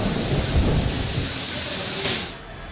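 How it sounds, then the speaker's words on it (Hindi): Heavy thunderstorm with torrential rain and crackling thunder, a dense continuous roar of downpour with rumbling bursts early on and a sharp crack near the end, loud and close with no voices. "मूसलाधार बारिश और कड़कड़ाती बिजली देखी।"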